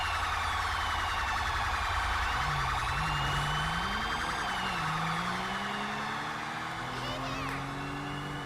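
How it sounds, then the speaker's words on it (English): Police sirens wail in GTA V during a London Met policing patrol, several overlapping sweeping tones rising and falling, fairly close, with a lower engine drone underneath and someone talking over them. "I need to get out of this area because them sirens are getting slightly annoying."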